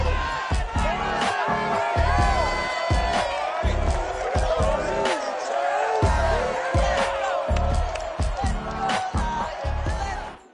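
A large stadium crowd at Ford Field in Detroit roars in Madden 22 before a Monday night Lions game, a steady loud cheer broken by rhythmic thumping beats, with an announcer's voice over it.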